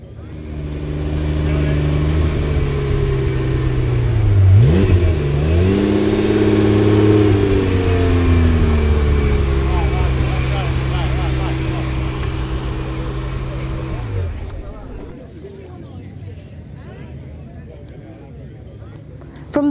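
A Ferrari Testarossa revs loudly and close by as it arrives at a classic car show, with a throaty swell around the middle before the engine settles and fades. Some talk can be heard underneath.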